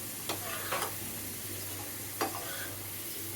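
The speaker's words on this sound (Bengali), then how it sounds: "তেলটা গরম করে ছেড়ে দিতে হবে আলুগুলো। এখন একদম ভালোভাবে ফ্রাই করে নিতে হবে এগুলো।" Potato sticks for French fries frying in hot oil give a steady, close hiss and sizzle throughout, broken by a few light scraping stirs, with no voices.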